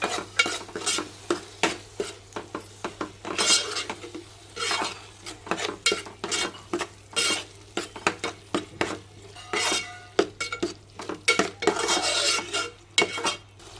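Spinach and roasted ground masala paste are stirred and sautéed in a pan for palak chicken. A spoon scrapes and knocks against the pan in a steady, uneven rhythm over a light sizzle, close up and with no talking.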